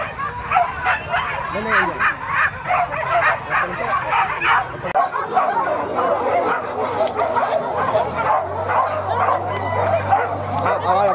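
Dog yips and bow-wow barks repeatedly over a crowded outdoor event, with people talking and a steady low hum underneath.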